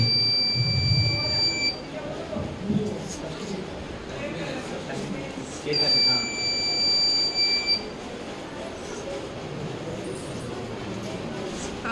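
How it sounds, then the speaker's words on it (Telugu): A buzzer on a pair of smart shoes, set off by an ultrasonic sensor, gives two steady high-pitched electronic tones, each about two seconds long, with a room murmur and handling noise between them. "ఇలా అల్ట్రాసోనిక్ సెన్సార్కి ఏదైనా అడ్డం వచ్చినప్పుడు ఆ బజర్ అనేది ఆన్ అవుతుంది"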